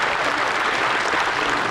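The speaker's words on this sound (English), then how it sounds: "Let's give them a round of applause." An audience applauds at a spelling bee, a brief, even burst of many hands clapping in a hall, moderately loud and without speech.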